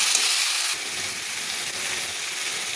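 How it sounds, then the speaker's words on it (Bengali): Spices frying in oil in a pan, giving a steady close hiss and sizzle with no talking. "যেহেতু মশলাগুলো প্রায় ভাজা হয়ে গেছে"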